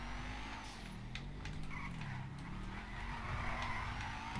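A BMW M4 drifts in the video game GTA V, its engine droning steadily while the tyres skid and squeal in a continuous, moderately loud stretch.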